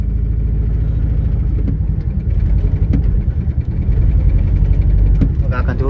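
A loading truck's engine rumbles steadily as the truck reverses to park alongside another vehicle in the rain, with a constant low drone and voices speaking over it.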